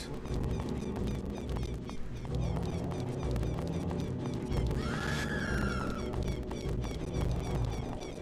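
A horse in Zelda Ocarina of Time 3D gives a short whinny midway through, partly buried under dense game music and rhythmic hoofbeat-like clatter.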